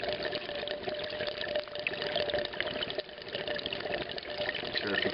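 Water draining through an uncapped Durso standpipe in an aquarium overflow, a continuous gurgling, splashing rush with a steady faint whine, moderately loud and close throughout.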